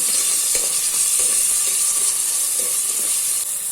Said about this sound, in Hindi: अभी इसमें फाइनली चॉप किया हुआ ऑनियन ऐड कर लेना है और मिक्स कर लेना है।